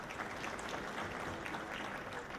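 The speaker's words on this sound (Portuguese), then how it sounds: "Palmas para ele também" A fairly faint, even patter of audience applause at a Telebrasil panel on economic competitiveness as a speaker is invited onto the stage.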